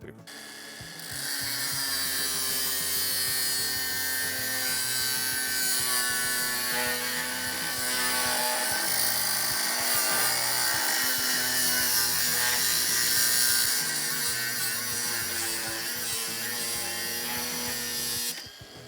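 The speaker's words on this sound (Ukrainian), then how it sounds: "Для початку беремо модель AG125B та ріжемо пруток. Діаметр прутка 25 мм." Procraft AG125B cordless angle grinder cutting through a 25 mm metal rod, a loud continuous high-pitched grinding whine that starts abruptly and holds steady for most of the span before cutting off.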